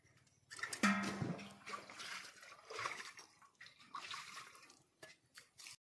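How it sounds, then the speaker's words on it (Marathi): Water splashes and pours as a mother and brother fill containers at home, arriving in uneven bursts that are fairly faint and somewhat distant. "माझी मम्मी आणि भाऊ पाणी भरतोय."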